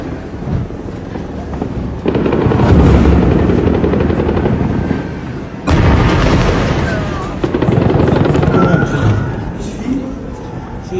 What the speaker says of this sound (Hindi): इजराइल पूरी ताकत से गजा पर खतरनाक बमबारी कर रहा है